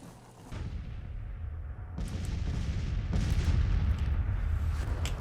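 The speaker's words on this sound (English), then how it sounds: "we just had a brigade break from artillery fire" Artillery fire in the Age of Muskets game during a Union campaign battle at Chantilly: a dense, continuous low rumble of distant cannon booms and musketry, swelling around the second mark and staying loud to the end.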